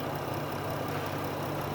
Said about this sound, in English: The engine idle smooth